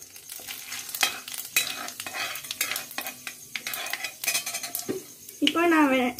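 Bay leaf, fennel and cumin sizzle in hot oil in a pan while a metal spoon clatters and scrapes in repeated sharp strokes, ending with a brief louder burst of frying.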